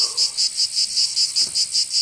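Cicadas drone in a steady high-pitched pulsing chorus outdoors, the shrill buzzing swelling and fading in a regular rhythm about four times a second, loud and continuous with no voices.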